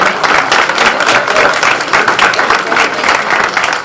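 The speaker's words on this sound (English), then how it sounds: "It's okay, you can clap." Audience at a Black History Month celebration breaking into loud, dense applause, many hands clapping steadily and close with a few crowd murmurs mixed in throughout.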